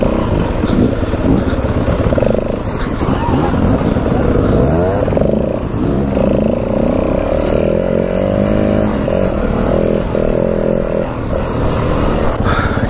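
A motorcycle engine drones steadily close by on mountain trails, its pitch falling and rising as it engine-brakes, with rushing wind noise throughout.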